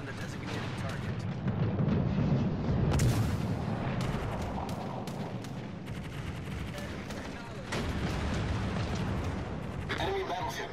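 Warship cannons boom and rumble through a naval battle video game, heavy overlapping blasts and crackling bursts rolling continuously over a low battle din.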